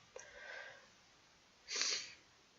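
Two quick sniffles close to the ear, faint and breathy, separated by a short pause.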